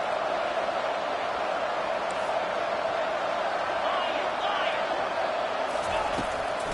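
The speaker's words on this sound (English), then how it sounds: "if you didn't know this was a big play, the crowd is telling you" A stadium crowd at an NCAA college football game roars for a big third-down play, a loud, steady wash of cheering that holds throughout.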